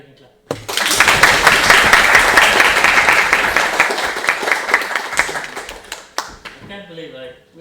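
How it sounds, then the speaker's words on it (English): A crowd of game developers claps in applause at a weekly meetup, a dense burst of hand claps starting abruptly, sustained for several seconds, then thinning out with a few scattered final claps. "now you can clap"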